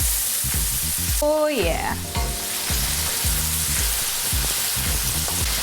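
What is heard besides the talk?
guanciale and chopped onion frying in a pan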